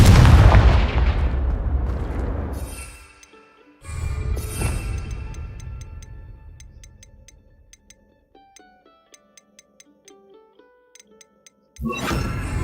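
Confringo fire-blast spells in Hogwarts Legacy, a loud close explosion decaying over a few seconds, a second blast, then faint ringing chimes before another burst at the end.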